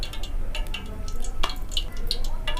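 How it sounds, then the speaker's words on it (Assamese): Bread gulab jamun balls sizzle in hot oil with crackling pops and bubbling, close and steady, with a few sharper spits and stirring clicks. "এতিয়া মই এইখিনি তেলত ভাজি ল'ম"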